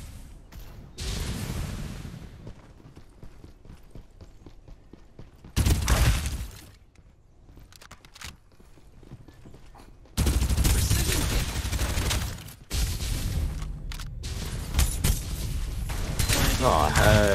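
Rapid bursts of gunfire in the game Farlight 84 come in loud, dense volleys separated by quieter gaps, the heaviest stretch running near the end.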